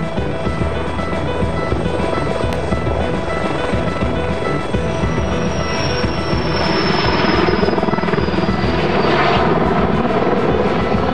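A firefighting water-dropping helicopter thunders close by with a continuous rotor and engine roar, swelling louder toward the end.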